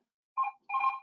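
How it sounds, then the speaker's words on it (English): A telephone rings nearby in two short electronic trills separated by a brief pause, clear against near silence. "Somebody's ringing me up"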